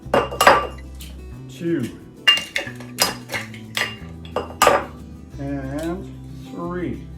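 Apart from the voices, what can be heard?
eggs being cracked into nut cake batter bowl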